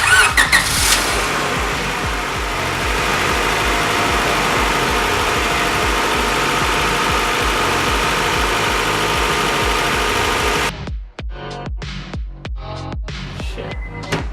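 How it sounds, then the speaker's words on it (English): A Honda Integra with freshly installed spark plugs cranks and fires into a loud, steady idle that runs for about ten seconds before cutting off, leaving brief clicks and knocks afterward; close up, no talking. "Spark plugs are done, so I reckon we should start her up now"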